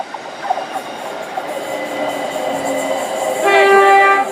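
A Gatwick Express Class 387 electric train pulls into Clapham Junction with a steady rolling hum, and a loud, sustained two-tone horn sounds near the end. No one speaks.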